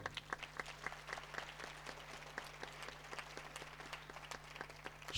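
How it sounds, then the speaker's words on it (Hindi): Scattered, fairly faint applause from a church congregation at a Hindi-language Punjab convention, with sparse individual claps over a steady low hum throughout. "जोरदार तालियां प्रभु के लिए।"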